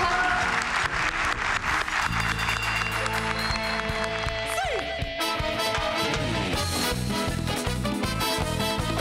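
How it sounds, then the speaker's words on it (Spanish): Studio audience applause for a singer on a Spanish-language television show rings out steadily, with some music playing along underneath. "Un fuerte aplauso, por favor."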